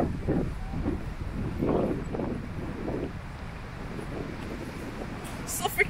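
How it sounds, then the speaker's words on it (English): Strong, cold wind at the Brighton Bathing Boxes on Phillip Island buffets the microphone as a continuous low, gusting roar that swells and eases without a break. "So freaking windy and cold."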